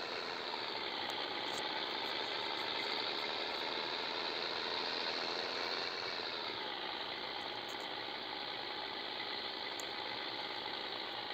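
A Scania 111 diesel truck engine drones steadily and loudly throughout, its pitch dipping slightly partway through, with no talking.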